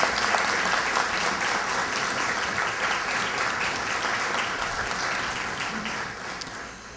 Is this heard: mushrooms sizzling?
no